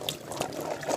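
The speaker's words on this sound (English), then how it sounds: "So what I'm going to do now is I'm just going to strain them out." Water is strained off cooked jackfruit beans, a continuous splashing pour and trickle with small clinks, moderately close and steady throughout.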